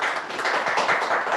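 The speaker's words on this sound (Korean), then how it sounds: "우리 박수로 초대하겠습니다" A church seminar audience gives a brief round of applause to welcome a speaker: many hands clapping in a dense, even patter, fairly close, with no voices over it.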